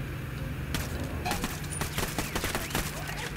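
Bursts of gunfire from Ghost Recon Wildlands crack in rapid clusters, sharp shots rattling over a low steady hum, with a quieter lead-in before the volley starts.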